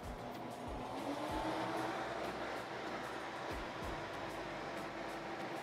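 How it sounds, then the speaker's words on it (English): Fans of a Lian Li Galahad 240 or InWin SR24 AIO liquid cooler blowing steadily after PC start-up, a continuous broadband whoosh with a faint tonal hum, close and even throughout with no talk. "Fans are blowing."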